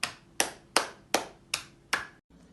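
Six slow, separate hand claps ring out evenly spaced at a steady beat, fairly close and crisp, each decaying briefly before the next, as school students clap for health workers.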